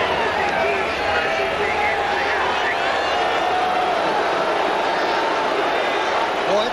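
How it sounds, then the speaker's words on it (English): Michigan State at top-ranked Iowa in 1985: a loud, constant roar from a packed college football stadium crowd, dense and unbroken for several seconds, with a broadcast voice faintly present within the din. "because of the crowd sound. McAllister can't hear"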